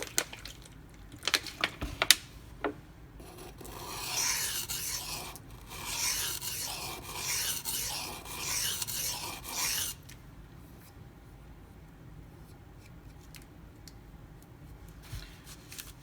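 Sharpening a Zero Tolerance 0393 knife with CPM-20CV steel on a stone: a few sharp clicks, then about six seconds of steady rasping strokes, loud and close, fading to quiet handling.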